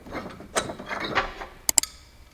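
A vise on a paintless dent repair tool is backed off with a short run of ratcheting mechanical clicks and scrapes, ending in two sharp metallic ticks, close and brief.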